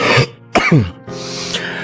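A person with a cold and flu coughs and clears their throat in short, harsh bursts, close and loud, with a brief pause between rough hacking fits.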